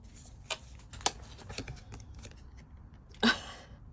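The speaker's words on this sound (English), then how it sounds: "We're going to shuffle the Frequency Tarot to get our next message." A tarot deck being shuffled by hand: a few brisk, papery riffles and card slaps, close and fairly quiet against a soft background hush, with no voices.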